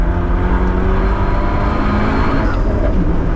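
Honda Civic FK2 Type R engine pulling hard in third gear on the Nürburgring track, a loud, steady drone with rising harmonics that continues without a break.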